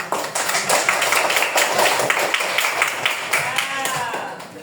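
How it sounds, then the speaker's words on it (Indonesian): A third-grade class claps together in a classroom, a rapid, dense run of many hands clapping in a loose rhythm that holds steady before easing off near the end, with voices mixed in. "Tepuk tangan semuanya"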